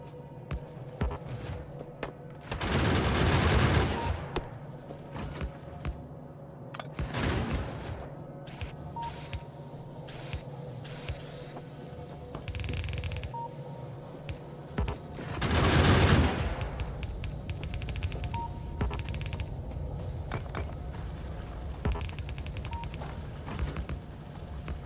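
Gun turrets in the Factorio video game fire in rapid automatic bursts. Loud volleys around a few seconds in and again near the midpoint stand out over a steady background of quieter intermittent shots and game noise.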